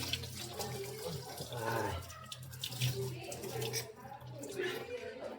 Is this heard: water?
yes